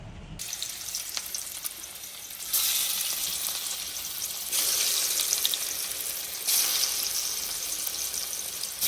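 Coconut oil sizzles loudly in a hot pan nearby, a dense crackling hiss that swells in several surges as the frying intensifies.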